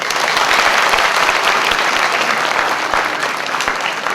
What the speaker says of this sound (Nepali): तपाईँहरू ताली बजाउन सक्नुहुन्छ।